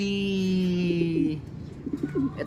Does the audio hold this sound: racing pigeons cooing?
yes